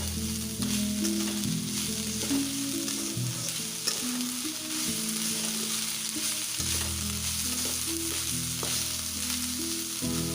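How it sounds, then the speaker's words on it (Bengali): A pan sizzles continuously as banana stem with a little sugar is stirred and fried, the steady hiss sitting under background music with no voices. "চিনি দিয়ে আর একটু ভালো করে ভেজে নেব।"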